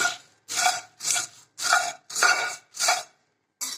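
Puffed rice (churmure) dry-roasting in a pan and stirred by hand: six rhythmic, rustling scrapes about half a second apart, close and fairly loud, then a short pause before another begins.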